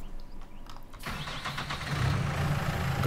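Tractor engine in Farming Simulator 19, starting up after a quiet moment and settling into a rough, steady mid-pitched running drone.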